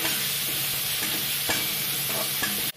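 Chopped onions sauté in a hot pan with oil for a nookal chops dish, a steady close sizzle broken by occasional stirring scrapes, with no talk.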